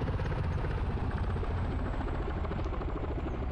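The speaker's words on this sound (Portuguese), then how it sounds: "Helicóptero, cuidado que tá de olho em vocês aí." A helicopter in the ArmA 3 military game makes a steady, rumbling rotor thump with engine whine, a continuous moderate drone with no talk over it.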